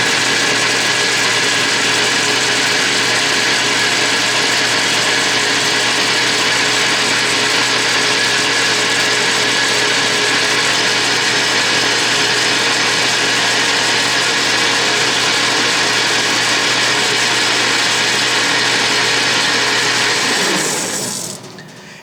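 South Bend lathe turning a milling arbor, a loud steady whirring hum with a constant tone that runs unbroken and then winds down at the end.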